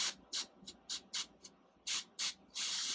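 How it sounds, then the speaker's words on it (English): Short bursts of fine aerosol spray hiss in quick, uneven pumps, followed by one longer continuous spray, close and fairly quiet. "I'm just gonna do a tester spray really quick and see how fine that mist is."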